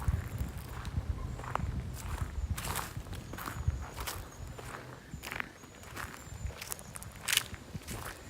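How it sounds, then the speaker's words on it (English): Footsteps walking outdoors along the side of a barn, a steady series of crunching steps over rough ground, close and moderately loud, with no talking. "just walking here on the side of the barn."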